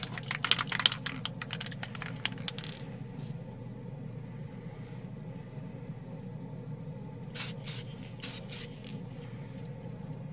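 An aerosol can of 2K/1K gloss clear coat sprays over Ultralumen chrome paint in short hissing bursts: several at the start and a few more near the end, over a faint compressor-like rumble.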